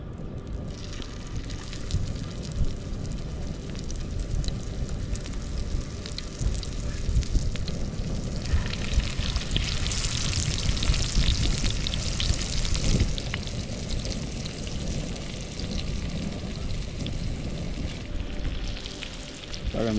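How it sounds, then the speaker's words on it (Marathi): Marinated river fish frying in a hot pan, a steady dense sizzle and crackle that holds close and loud for the whole stretch, with no talk over it. "मासे मॅरिनेट झालेत चांगले. तर आता तव्यामध्ये टाकून घेणार आपण."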